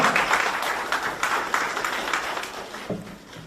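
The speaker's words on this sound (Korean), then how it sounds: "박수 부탁드리겠습니다." A seated audience at a Gimje university-admissions information session applauds to welcome a speaker onto the stage: steady, dense clapping for about three seconds before a voice begins.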